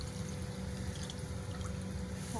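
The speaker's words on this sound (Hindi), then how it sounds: "तो अब हम इसमें पानी ऐड करेंगे धीरे धीरे" Water poured slowly into a kofta curry gravy of raw banana koftas, a steady, continuous trickle and pour with faint liquid gurgles, close and unbroken throughout.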